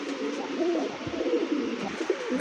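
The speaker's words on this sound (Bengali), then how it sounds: "দেখতে পাচ্ছেন চমৎকার একজোড়া নান কবুতর, ব্ল্যাক নান, জি ভাই, হ্যাঁ কুচকুচের নান, খুবই সুন্দর, যে ডাকতেছে নর এবং মাদি" A pair of black Nun pigeons, male and female, coo nearby at a pigeon market in a continuous, throaty, rolling murmur with soft pulsing swells.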